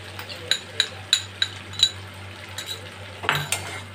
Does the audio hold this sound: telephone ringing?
no